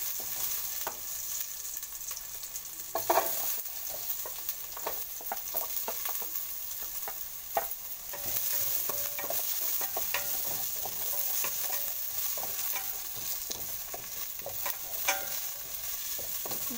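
Garlic, onion and ginger sautéed in a pan give a constant close sizzle and hiss, with intermittent spatula scrapes and small crackling pops throughout, no talking.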